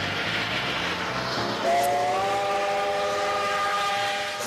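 A steam train's whistle sounds one long, loud, steady blast over the rumbling clatter of the train rolling past.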